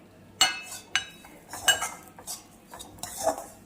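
A metal spoon stirs sugar into hot Kutchi samosa filling in a pan, giving a few sharp clinks and scrapes against the metal at an uneven pace, close and alone.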